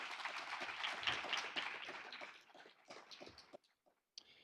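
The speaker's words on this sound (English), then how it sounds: "let's give them a round of applause for their support" An event audience applauds, with dense clapping that is loud at first, thins out and fades into scattered claps and near silence toward the end.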